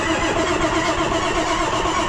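A tractor engine cranks and fires up after sitting unused, settling into a loud, close, steady rumbling run with no talking.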